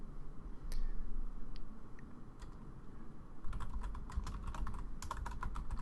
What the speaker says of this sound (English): so I'll just type in sales or quarterly sales